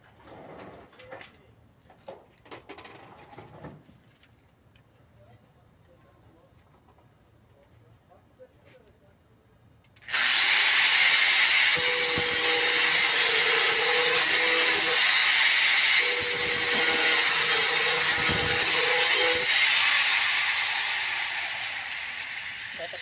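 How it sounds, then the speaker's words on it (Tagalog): A handheld angle grinder fitted with a cutting disc, used near a stand plug, starts abruptly and runs loud and close with a steady high whine for about thirteen seconds. The pitch dips slightly twice as the disc bites, then the sound tapers off; talk is heard beforehand. "Ito po yung tamang paggamit ng grinder sa cutting disc"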